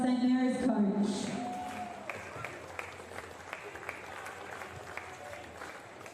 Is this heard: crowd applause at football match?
yes